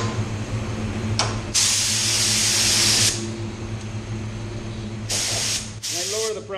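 A spray gun lays PPG EC550 clear coat on the inside of a part in two loud hissing bursts of roughly a second and a half each, with softer gaps between them and a steady low hum underneath.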